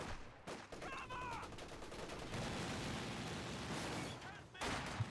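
Machine gun fire rattles in steady bursts during a real-time strategy game battle, layered with scattered gunshots and distant explosions, faint beneath the wider din.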